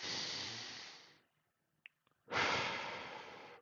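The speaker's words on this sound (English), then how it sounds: "you fill up your belly, and then you breathe out from your mouth" A slow breath drawn in through the nose and let out through the mouth during a meditation and sound-healing session, heard as two long, soft airy exhalation-like swells separated by a near-silent pause with a couple of tiny clicks.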